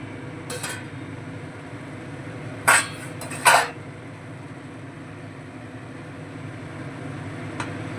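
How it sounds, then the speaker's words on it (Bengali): A metal lid lifted off a cooking pot of simmering banana stem (thor) and potatoes, giving two brief clanks close by with a faint clink later, over a steady low kitchen hum. "এবারে আমরা ঢাকাটা সরিয়ে দেখে নেব যে থোরটা সেদ্ধ হলো কিনা"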